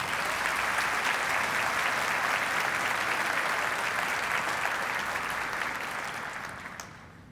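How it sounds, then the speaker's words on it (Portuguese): Steady, dense applause from a large crowd at a church sermon, loud and sustained throughout, fading out toward the end. "Você pode dar uma salva de palmas para Jesus?"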